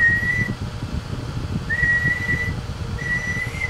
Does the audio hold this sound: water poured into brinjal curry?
no